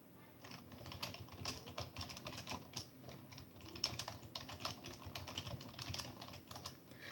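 Someone types on a computer keyboard in bursts of quick, light key clicks, close but soft, with irregular pauses and no talking.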